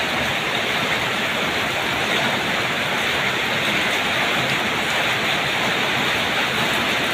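Steady afternoon rain falls at a house in Buriram province, Thailand, a dense continuous hiss of drops on surfaces at even loudness throughout, with no voices.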